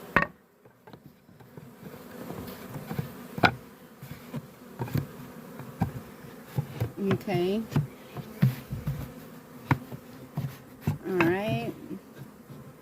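Honey bees from a swarm being relocated into a permanent hive box buzz steadily at close range throughout, a busy insect drone with someone speaking briefly over it and occasional thumps of handling.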